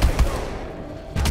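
MK14 rifle fire in the Call of Duty Advanced Warfare Exo Zombies mode, two sharp loud shots, one at the start and one near the end, with a low rumbling pause between them.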